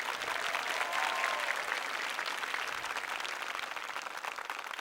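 A studio audience at a televised competition show applauds seven eliminated contestants, with steady, dense clapping held at an even level across the whole stretch and no voices on top.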